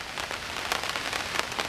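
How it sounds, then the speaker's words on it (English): Steady rain falling on a surface, a dense continuous hiss with scattered louder droplet taps, close and even throughout with no voices. "The soothing sound of rain."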